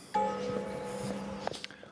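A single town hall bell in Coronado strikes once close by with a clear sustained ringing tone that fades over about a second, followed by soft voices and quiet ambient sounds.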